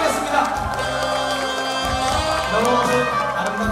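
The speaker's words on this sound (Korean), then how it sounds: "다시 한번 힘찬 박수 한 소절만 질러주시길 바라겠습니다." Audience applause and cheering at a singer's album release event: a steady wash of clapping and crowd noise, with music faintly underneath, continuing throughout with no pauses.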